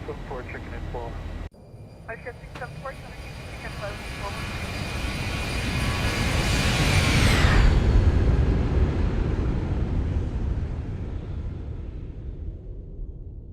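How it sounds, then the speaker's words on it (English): Boeing 737 jet in the Zibo 737 flight simulator passing by at about 6,000 feet, a roaring engine rumble swelling with a descending whine to a loud peak, then fading, with a voice speaking briefly at the start. "Let's get a flyby. It's going to be loud."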